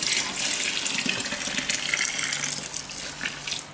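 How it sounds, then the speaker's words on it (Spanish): Water splashes steadily into a homemade laundry gel mixture, about two litres being poured in a continuous, fairly close gush. "ahora le voy a poner otros 2 litros más de agua que ya tengo aquí medido"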